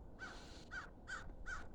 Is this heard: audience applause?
no